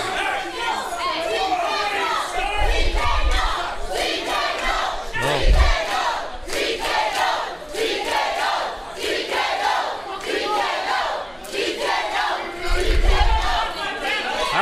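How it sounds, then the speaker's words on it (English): A pro wrestling crowd cheers for a wrestler holding a bat during a tag team match, a steady roar of many voices with louder swells, under an announcer's commentary. "All the fans cheering for Sweet."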